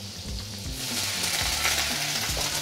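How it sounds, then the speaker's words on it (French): Cockles cook in butter in a pan, giving a steady, close sizzling hiss with low clatters as they are stirred and shifted, and no voices. "Il nous reste plus qu'à cuire nos coques avec un petit peu de beurre."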